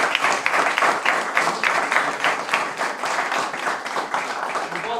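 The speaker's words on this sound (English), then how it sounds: "say thank you to all our partners with a loud ovation" Audience at the Microsoft AgroTech Hackathon grand finale giving partners an ovation: loud, continuous crowd clapping with a slightly pulsing rhythm, steady for the whole stretch and free of talk.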